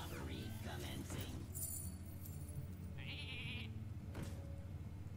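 Sheep bleat inside the Hearthstone card game, a short wavering cry standing out over busy game effects and a talking voice.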